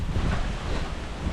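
Strong gusts of cold wind buffeting the microphone, a loud, continuous low rumble with rushing noise, no voices.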